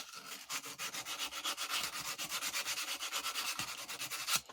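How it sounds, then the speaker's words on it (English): A file scraped back and forth inside a metal tube, a rapid rhythmic rasping of about thirty even strokes, close and moderately loud, with no talk. "So I can file the inside of this."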